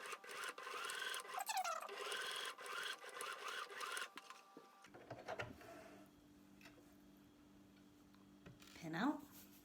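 Sewing machine stitching an eye pillow, its rapid ticking whir running steadily for several seconds and then stopping, followed by quieter handling sounds and speech.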